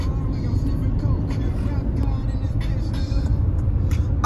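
Road traffic on a highway rumbles steadily, a loud low engine and tire drone with a few passing vehicles and faint higher squeaks over it.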